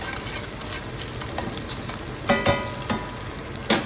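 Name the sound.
fatty pieces frying and crisping in a pan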